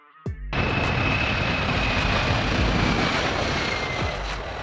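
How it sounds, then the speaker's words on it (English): Boeing 747-400 airliner engines burst in after a brief low tone and hold a loud, steady roar with a faint high whine running through it, close and alone without voices. "Boeing 747-400."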